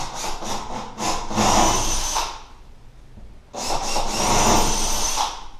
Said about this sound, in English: now we're going to want to drill those holes